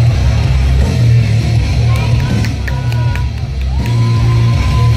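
A wrestling event crowd shouts and yells in a loud, continuous roar that fills the whole stretch, with scattered higher calls rising out of the din.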